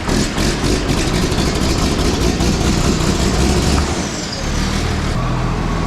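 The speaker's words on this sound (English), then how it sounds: "That's my favorite tractor to start." A John Deere 4440 tractor engine runs loud and close, a steady heavy diesel rumble with a brief dip near the end before it settles back into idle.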